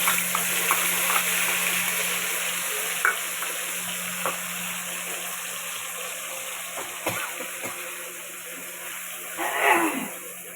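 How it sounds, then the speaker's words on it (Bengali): Black cumin and ground spices hit hot oil in a pan for prawn malai curry, giving a steady close sizzle with occasional stirring scrapes and a louder burst of frying near the end. "তেল তেল গরম হয়ে গেছে, কালো জিরে দিয়ে দিচ্ছি। আর মশলাটা দিয়ে দিলাম।"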